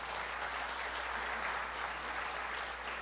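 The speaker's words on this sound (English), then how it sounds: "I appreciate the clapping" Audience applause after a rabbi's speech, a dense, steady wash of many hands clapping, fairly distant and even throughout, with no voices over it.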